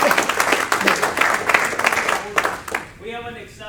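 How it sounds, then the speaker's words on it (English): Applause from an audience at a Georgia CCIM chapter event, honoring the board of directors: a loud burst of dense clapping that thins out toward the end, with a voice speaking as it fades. "Could you please give them a big round of applause?"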